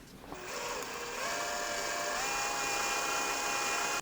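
A power drill bores screw holes into the glassy-finished body of a Leo Jaymz DIY Telecaster-style guitar kit, a steady whining spin lasting about four seconds, quiet and rising slightly in pitch partway through.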